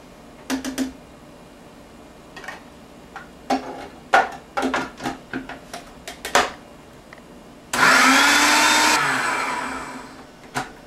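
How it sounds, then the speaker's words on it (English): Roasted red pepper hummus with tahini, preceded by scattered clinks and knocks of kitchen handling, then a blender pulses once loudly for about a second and its whir trails off as the motor spins down. "I'm going to add just a tablespoon or 2 more, and then give it another pulse."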